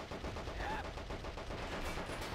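Machine gun fire in a World War II World at War multiplayer match, a quick rattling burst of rhythmic shots heard at moderate distance amid battlefield noise.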